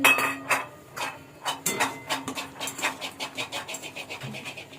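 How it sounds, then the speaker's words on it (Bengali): Green cardamom pods are cracked open by hand with a series of sharp clicks and taps, first scattered, then quicker and more regular, close up and alone. "একটু এলাচগুলো ফাটিয়ে ফাটিয়ে দিচ্ছি"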